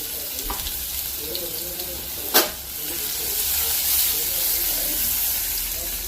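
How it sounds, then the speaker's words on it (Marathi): Asafoetida and plenty of crushed garlic sizzle steadily in hot oil while being sautéed, a dense continuous frying hiss with one sharp clatter of a spoon near the middle. "हिंग आणि भरपूर ठेचलेलं लसूण चांगला परतून घ्यायचा"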